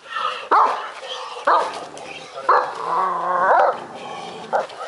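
Kangal dogs bark and yelp during a fight, several sharp loud barks spaced about a second apart with whimpering and growling between them and some voices in the background.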